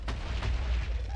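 Minecraft explosions go off during an Ender Dragon fight in a modded survival game, with one sharp boom and a second blast rumbling close together, set against low rumbling noise.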